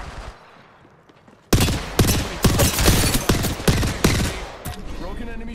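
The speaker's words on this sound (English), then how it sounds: "Being shot at." Rapid automatic gunfire in Apex Legends strikes the player, a loud burst of dense overlapping shots starting abruptly after a quiet lead-in and continuing with sharp individual cracks.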